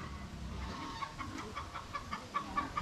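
A brooding hen sitting on eggs inside a coop gives soft, intermittent clucks, a few short calls rising toward the end over a low farmyard background.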